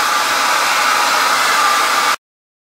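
A hair dryer fitted with a diffuser blows steadily as it dries hair, a loud, even whooshing hiss that holds for about two seconds, then cuts off abruptly into silence.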